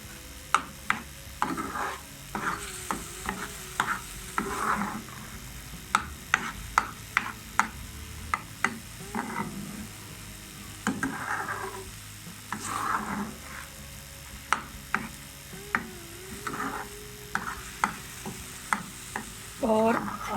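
Egg masala with spices and kasuri methi fries in a pan and is stirred, a soft steady sizzle broken by repeated sharp scrapes and knocks of a spoon against the pan, close, with no talking.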